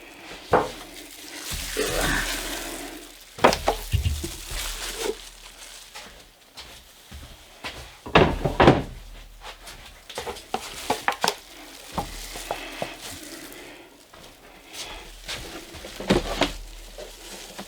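An aluminum pan is handled while trimming and preparing a brisket, with crinkly rustles, scattered sharp metallic taps and knocks, and soft shuffling movements nearby, loud in short bursts between quieter stretches.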